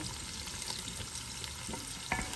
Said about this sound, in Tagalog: Sunod natin guys ang luya, henhebre.